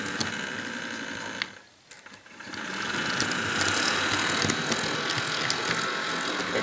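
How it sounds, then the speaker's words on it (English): A Bachmann EMD GP38-2 HO model diesel locomotive in Norfolk Southern livery runs with a steady mechanical whir and fine ticking. The sound dips briefly near the start, then continues evenly and close, with no voices. "So now we're gonna run the locomotive and see how it runs."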